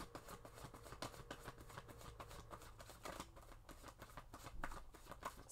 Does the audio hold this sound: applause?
no